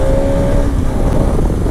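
Motorcycle engine riding along a road during a roadside chase, a steady close drone with a tonal whine in the first half, then rougher broadband engine and road noise, continuous and fairly loud with no speech.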